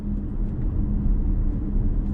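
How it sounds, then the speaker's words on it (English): Steady low road rumble of tires heard from inside a Maxus Euniq 6 SUV cabin while driving, a continuous moderate drone with no talk over it. "It's a bit of tire noise in here, but not that much."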